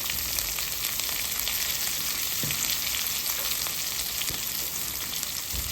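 Cauliflower florets fry in oil over a flame, giving a loud, dense, continuous sizzle that stays even from start to end, with an occasional light stir and no voices.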